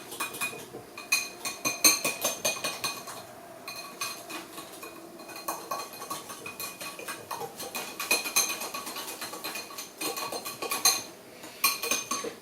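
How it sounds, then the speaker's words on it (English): A whisk beats eggy cake batter in a mug, making quick, rhythmic metallic clinks and scrapes that run unevenly throughout, close and moderately loud, with no voices. "Okay, so I'm gonna mix all of this together. I have my whisk."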